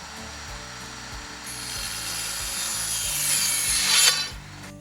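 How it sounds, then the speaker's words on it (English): A hand saw cuts through conduit close by with back-and-forth scraping strokes that grow louder and harsher toward the end of the cut. "Cut the conduit."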